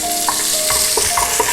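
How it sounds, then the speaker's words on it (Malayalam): Green chillies and ginger stirred in a hot pan while cooking broken wheat uppuma, with a steady oil sizzle and several scraping stirs, close up and with no talking. "അതിട്ടിട്ടൊന്ന് ഇളക്കി കൊടുക്കാം."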